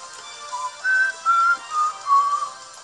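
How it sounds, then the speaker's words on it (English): A person whistles a short tune of four or five sustained notes, clear and close, with no talking. "I'm whistling and stuff."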